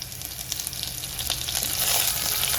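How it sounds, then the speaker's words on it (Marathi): Curry leaves drop into browned garlic in hot oil for moong dal tempering, and the close, dense sizzle swells louder as they hit the pan. "असं लसूण लालसर झाला की कढीपत्ता टाकायचा"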